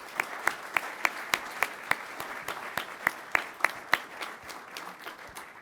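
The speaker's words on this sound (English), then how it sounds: "Can we give a big round of applause for all of our attendees today?" Claps ring out at an Air Force undergraduate pilot training graduation ceremony, a series of loud, evenly spaced sharp claps standing out over a softer spread of applause in a large room.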